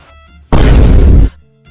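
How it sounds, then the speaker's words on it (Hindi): A Diwali firecracker bursts close by with one loud, harsh blast that roars for under a second before cutting off, set between quieter background sounds. "तब तो पटाखा वहीं पर फोड़ेंगे"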